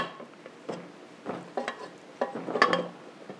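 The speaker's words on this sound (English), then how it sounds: "I'm gonna let this mix now for about 5 minutes" Electric stand mixer working babka dough for Polish pastry, a soft uneven churning and knocking in the bowl that comes in bursts and builds toward the end, fairly close and alone.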